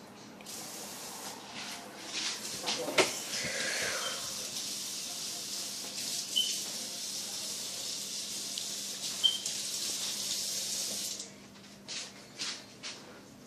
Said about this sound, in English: Turn that hot water on for me